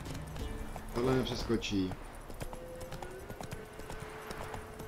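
Horse hooves clip-clopping in the video game The Witcher 3, a steady rhythm of close, moderately loud hoofbeats, joined briefly by someone talking.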